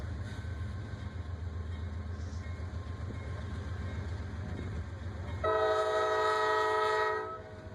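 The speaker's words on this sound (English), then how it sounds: "This mixed freight has reached its destination here at Norris Yard." A mixed freight train, NS 384, rumbles steadily nearby arriving at Norris Yard in Birmingham, then a loud multi-tone horn blares for about two seconds before cutting off.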